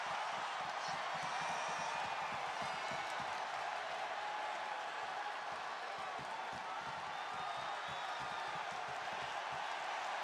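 A WWE Raw arena crowd at Scotiabank Arena in Toronto roars in a steady, dense wash of cheering and noise, heard from a distance and continuous throughout.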